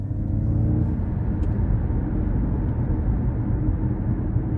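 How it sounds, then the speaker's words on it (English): A 2022 Ford Mustang Mach-E GT Performance electric car drives on the road, giving a steady low cabin rumble of road and tyre noise with a faint motor whir and no talking. "Let's go ahead and take this 2022 Ford Mustang Mach-E GT Performance out on the road for a quick test drive."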